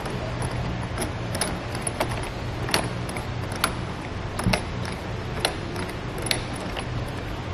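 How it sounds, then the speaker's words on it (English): Plastic end cap being spun by hand to tighten a Yakima rain gutter tower clamp on a 2017 Jeep Wrangler roof, giving faint repeated clicking and ticking ratchet-like sounds over a steady low background. "We'll take our end cap and start spinning."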